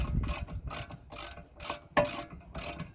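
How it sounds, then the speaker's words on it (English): A 14mm socket on a ratchet undoes a rear brake caliper bolt on a Kia Ceed, producing close, repeated bursts of ratcheting clicks in an uneven back-and-forth rhythm. "So we're going to be using a 14mm socket to undo the bolt."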